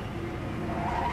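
A car in a Resident Evil 7 chase scene skids and scrapes along, a sustained loud tire squeal and grinding rumble over about a second, with no voices.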